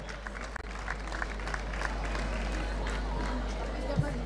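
Audience applause and crowd murmur fill a hall at a local TV variety show as a Latin-mix dance school troupe is presented, a steady, broad wash of clapping held at an even level throughout.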